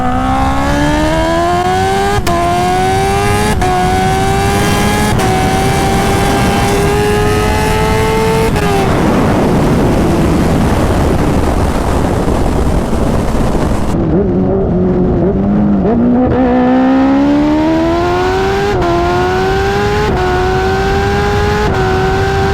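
A high-revving Kawasaki Ninja H2 motorcycle engine screams loudly up through the gears from 60 to 130, pitch rising steadily with brief drops at each shift, under constant rushing wind noise.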